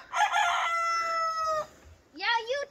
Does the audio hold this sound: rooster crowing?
yes